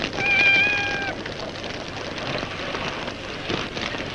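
A cat gives one clear, drawn-out meow over steady rain pattering on a surface, followed by a fainter trailing cry, with no talking.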